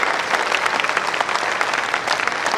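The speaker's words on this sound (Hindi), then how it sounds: "थोड़ी तालियों का घनत्व बढ़ाइए।" Applause from the audience at a poetry recital, a thick, even roar of many people clapping together, fairly loud and continuous with no gaps.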